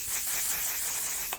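A short, steady hiss of makeup setting spray misting close to the mic runs almost the whole time, then ends with a faint click.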